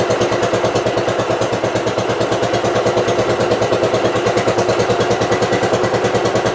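A small equipment engine runs steadily with the choke on while charging batteries, a loud, even, rapid mechanical chugging close by that holds without a break.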